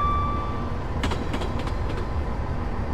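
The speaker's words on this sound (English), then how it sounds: "I've just idled the power to allow the train to coast." A train coasts with its power idled in Train Simulator 2015 on the Glasgow Queen Street to Edinburgh route, giving a steady rolling rumble with a few rhythmic rail clicks partway through.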